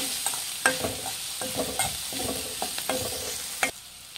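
Onions frying in a pan for an Ugadi festival meal, a steady broadband sizzle broken by irregular scraping strokes of a spoon stirring, close and fairly loud with no voices.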